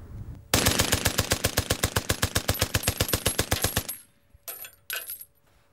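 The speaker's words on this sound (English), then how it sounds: "So despite what you hear, it's discharging around 9 bullets per second." A machine gun fires one rapid, evenly spaced burst of about thirty loud shots over three seconds, then stops abruptly, followed by a few brief metallic clanks and rattles.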